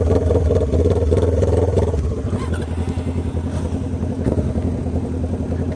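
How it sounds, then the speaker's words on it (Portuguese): A Honda CB500 motorcycle rumbles with a deep, loud exhaust drone while being ridden, steady and close throughout with slight revving swells and no talk heard. "Nossa, escape aqui tá o terror"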